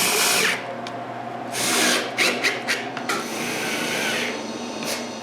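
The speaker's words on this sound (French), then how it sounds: "Je tourne le tout et je visse le cadre au moule" A drill drives screws through a round wooden frame into a wooden mould in a woodworking shop, heard as several short, close whirring bursts with quiet gaps between them.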